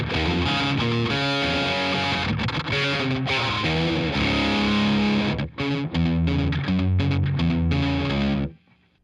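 An electric guitar played through a delay pedal in front of drive pedals, its loud distorted rhythmic chords and riffs sounding continuously before cutting off near the end.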